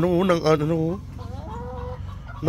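A hen clucks in short, repeated bursts after a person speaks briefly; the clucking is close and moderately loud.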